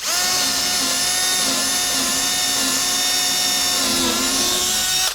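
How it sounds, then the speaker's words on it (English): A power drill whining steadily as it bores holes through the middle of a wooden 2x8 board for porch light wiring, loud and close for the whole stretch, with pitch dipping slightly under load and no talk. "What I'm doing right here is drilling holes for the wires to go."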